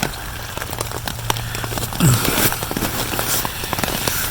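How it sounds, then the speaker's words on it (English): Steady rain patters and hisses throughout, with scattered sharper drops and a brief louder splash partway through; no voices. "it's raining harder now."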